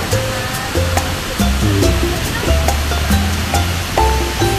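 Mother Falls in Baler, Aurora pours down in a steady, loud, hissing rush of water, heard close up, with a light melodic tune layered over the roar.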